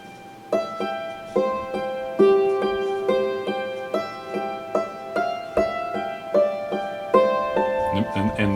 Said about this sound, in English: Okay, now if we add a drone, just a simple drone to that melody